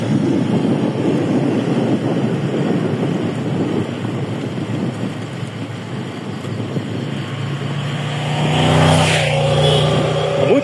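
Several motorcycles roar past on a rural highway near a cyclist, a loud, continuous engine drone with wind buffeting the microphone, rising in intensity toward the end as more bikes pass close by.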